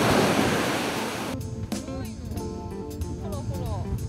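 Ocean waves breaking at a seashore in southern Hokkaido, a loud roaring wash of surf with wind buffeting the microphone that eases into a steadier swash, with people talking over it.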